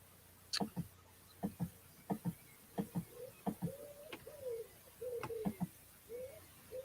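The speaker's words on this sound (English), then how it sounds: "Oh, they're pigeons." Pigeons coo in a garden in the evening: a series of soft, low, rhythmic cooing calls repeats in pairs, with a few higher chirps over a faint background hum, moderately distant and without talk.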